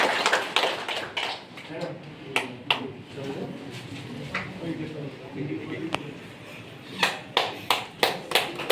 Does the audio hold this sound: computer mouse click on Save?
no